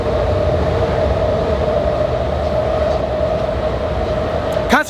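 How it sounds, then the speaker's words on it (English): A train rolls past close by in Kensington, Philadelphia, as a loud, continuous rumble with a sustained humming whine, steady for several seconds before a brief clatter at the end. "a train is coming again"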